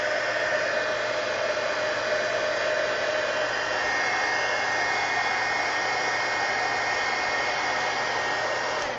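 A heat tool blows steadily while drying glue on the spine of a handmade mini magazine, giving a constant loud whooshing hiss close by with no pauses and no voices.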